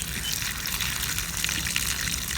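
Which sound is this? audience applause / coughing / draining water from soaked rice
draining water from soaked rice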